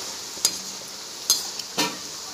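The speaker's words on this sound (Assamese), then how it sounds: "তেলটো যিহেতু পুৰা গৰম হৈ আছে, ইয়াত আমি ছয়খোলা ভাজি লৈছোঁ" Pieces of khurma dough fry in very hot oil with a soft, steady sizzle, broken by three distinct clinks and scrapes as a utensil stirs them.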